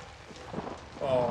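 A thunderstorm with rain rolls through the video game Outlast, heavy rain hiss with a low rumble that swells louder toward the end, and someone talks over it.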